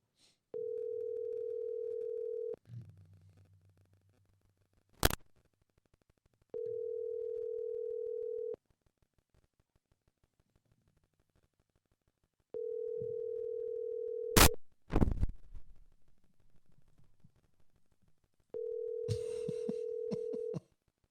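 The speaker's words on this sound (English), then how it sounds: "A lot of ringing on this episode." A telephone call repeatedly produces a steady dial or ringing tone in long even bursts, separated by gaps with sharp clicks and brief line noise, clear and alone with no talking.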